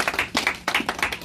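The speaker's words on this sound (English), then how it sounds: "Let's clap for Jesus." Congregation clapping in rhythm during a church service, a brisk series of crisp hand claps in a steady beat, close and fairly loud, with no speech over them.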